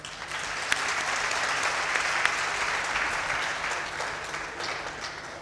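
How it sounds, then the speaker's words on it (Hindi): Audience at an Urdu literary conference breaking into applause, a dense, steady roar of many hands clapping that holds evenly throughout with a few sharper claps standing out. "आप सब की तालियों में मुमताज़ नक्काद दानिश्वर जनाब शमीम हनफी साहब।"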